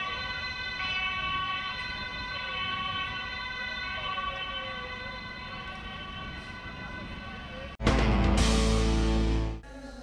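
An ambulance siren wails steadily on a road in Hilversum, its tone rising and falling over traffic noise for several seconds before a sudden louder, harsher burst near the end.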